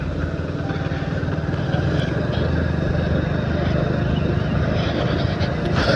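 Out on a road near a busy riverside temple ghat, a motorcycle towing a second bike goes past, its engine making a continuous droning rumble amid general crowd noise.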